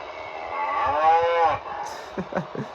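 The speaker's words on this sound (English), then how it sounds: "That's the cow noise." A single long, loud cow moo with a smooth falling tone from the sound system of a Broadway Limited HO scale Southern Pacific GS4 model locomotive, followed by a few short clicks and knocks.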